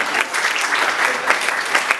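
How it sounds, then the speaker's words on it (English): Audience applause at a live comedy debate show pitting cats against dogs, a dense, steady clapping that fills the whole stretch with small swells and no voices. "Let's give the cat people a round of applause"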